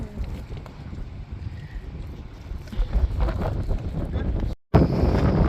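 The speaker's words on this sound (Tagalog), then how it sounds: "grabe ang hangin, lakas" Strong wind buffets the microphone at an aqueduct fishing spot, a steady loud rumbling roar that swells and gusts, with a brief dropout near the end.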